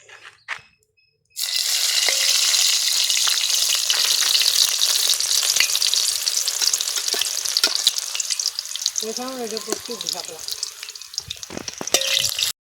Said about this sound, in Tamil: கத்திரிக்காவை இப்படி பொறிச்சு உப்பு மஞ்சள் போட்டு சாப்பிட்லாம்